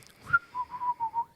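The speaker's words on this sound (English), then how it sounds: "That's me whistling." A person whistles a short tune: one rising note, then four sustained, slightly wavering tones in a steady rhythm, close and moderately quiet with no talking.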